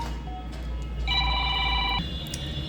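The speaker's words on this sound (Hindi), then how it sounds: "तो सॉरी, फ़ोन आ गया था।" A phone rings with an electronic ringtone, a steady two-tone trill that sounds twice and then cuts off, fairly loud over a low background hum in a room, with no talking.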